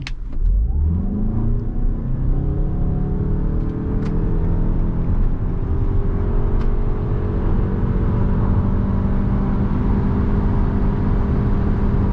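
A 2021 Suzuki Across in sport mode accelerates hard on an empty Autobahn, its engine note climbing steadily and loudly from inside the cabin for the whole stretch, with no speech.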